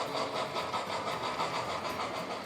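A battery-operated HO scale model steam locomotive on a Western Pacific 1967 layout gives off a steady, faint mechanical chuffing and rumble that runs unbroken through the whole stretch, with no voices over it.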